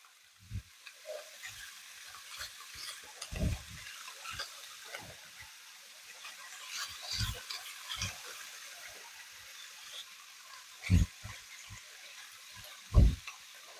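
Ground beef hamburger frying in a pan, a low steady sizzle broken by intermittent scraping and knocking as it is stirred, close and fairly quiet.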